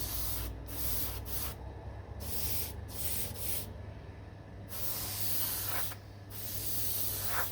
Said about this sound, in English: just using your airbrush, just by pushing the trigger in